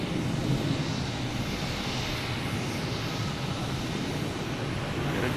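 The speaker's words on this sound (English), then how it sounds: "That Delta just landed." A jet airliner landing at Boston Logan Airport produces a steady broadband engine roar and rumble heard from a distance, continuous through the clip with no talk.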